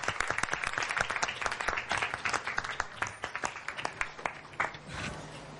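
Applause from an audience at a students' day ceremony: dense, irregular clapping from many hands, moderately loud and sustained throughout, with a few sharper individual claps near the end and no speech over it.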